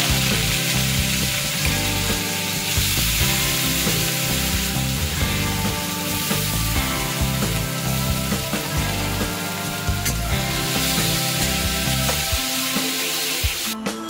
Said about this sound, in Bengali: পুড়ে রাখা আলুগুলোকেও মুচমুচে করে একটু ভেজে নেব।